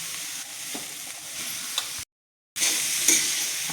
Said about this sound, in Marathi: आता हे कलसून घेऊ अशी गोबी.